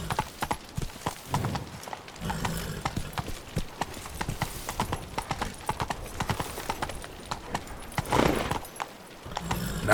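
Roach, a horse in the video game Witcher 3, gallops with rapid, steady hoof clip-clops and a brief snorting whinny, close and clear over a quiet background.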